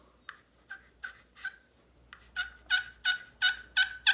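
A turkey slate call worked with a striker on a sanded surface gives a series of sharp yelps, spaced and soft at first, then quicker, louder and more rhythmic, close by and alone.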